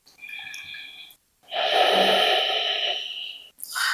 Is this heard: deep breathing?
yes